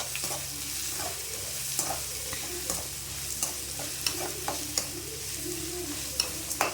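Onions fry gently in a pan, a low, even sizzle broken by frequent short scrapes and taps of the spoon, close by and fairly quiet, with no voices.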